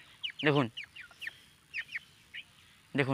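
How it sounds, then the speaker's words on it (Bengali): Male quail calling: short, raspy harsh cries at the start and end with thinner chirps between, close and fairly quiet, over a faint background hum. "নর দেখতে পাচ্ছেন কক করে বাঁকতেছে"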